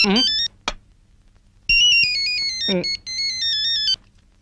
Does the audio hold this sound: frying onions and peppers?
no